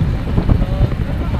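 Strong wind rushing past while riding in a vehicle on a road trip to a Shiva temple, a loud continuous low-frequency roar and buffeting on the microphone.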